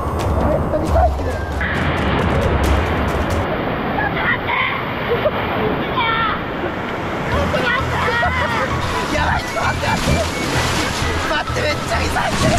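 Waves roll and slosh through a crowded wave pool, a continuous churning wash of water under loud crowd babble and nearby voices talking throughout.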